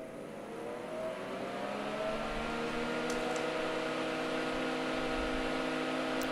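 An Ampex VR-1200B video recorder under restoration hums after power-up, its fans running in a steady whirring drone with constant tonal lines, moderately quiet and unchanging, with a couple of faint clicks midway.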